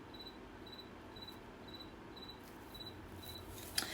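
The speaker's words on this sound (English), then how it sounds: "there is a very loud cricket that just won't stop" A cricket chirps in regular, evenly spaced pulses against a low background hum, steady and moderately clear, with no talking.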